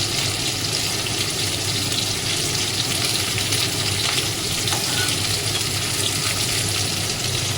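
Paneer pieces fry in hot oil with a steady, loud, crackling sizzle that holds evenly from start to finish, with no voices.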